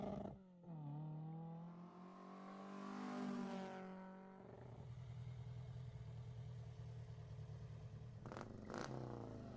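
A car engine in the video game Forza Horizon 4 revs up and settles into a steady mid-pitched drone, then two sharp high bursts near the end; close and fairly loud.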